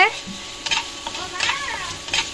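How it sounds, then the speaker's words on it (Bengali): Spice paste sizzles and is stirred in a pan while frying as the base for a Bengali fish curry, with a soft crackle and scraping strokes close by, heard in short bursts. "মাছের ঝোল রান্না করার জন্য মশলাটা একদম কষা কষা করছে"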